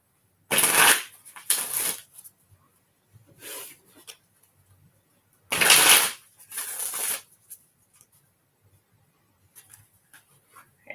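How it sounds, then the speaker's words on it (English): Tarot cards are shuffled under a table in several loud, close bursts of riffling, each lasting about a second, with quiet gaps between them. "I'm going to get these shuffled up a little bit here."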